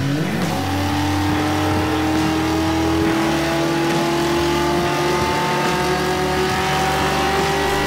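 A loud LQ4-swapped 1981 Camaro Z28 engine holds a steady high rev under load on a dyno, its pitch climbing slowly and continuously, with no voices.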